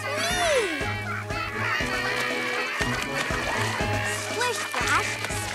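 Cartoon ducklings quack and splash through rain puddles, with bright bursts of splashing and duck calls over a steady background of music, loud and close throughout.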